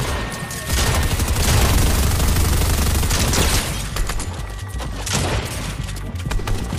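A dense stretch of rapid gunfire in a Fortnite Battle Royale match, loud, continuous bursts and impacts rattling on for several seconds before easing slightly.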